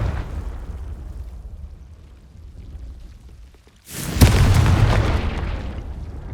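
A Confringo spell explodes in Hogwarts Legacy with one loud, sudden boom, followed by a roaring, crackling wash that carries on to the end over a rumbling game background.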